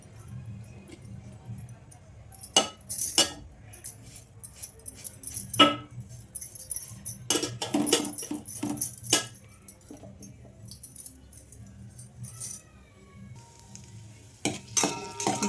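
Chopped dry fruits are fried for ravva laddu and stirred in a pan, with repeated sharp metallic clinks of a spoon against the pan over a faint low sizzle and short quiet gaps.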